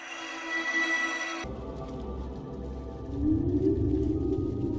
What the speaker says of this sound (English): Is that a whale's song?